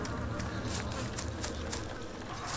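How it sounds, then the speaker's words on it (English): Flies buzz in the DayZ survival video game as a steady, dense droning hum with small swells in loudness, close and continuous, with no voices over it. "I can hear the buzzing flies"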